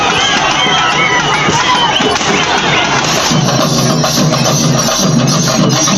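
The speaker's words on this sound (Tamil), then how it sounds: "பக்தர்களின் பக்தி கரகோஷத்தின் இடையே தேர் 4 ரத வீதிகளை வலம் வந்தது." Devotees cheer and shout around a temple chariot being pulled through the streets at a festival, a loud, dense roar of crowd voices running without pause.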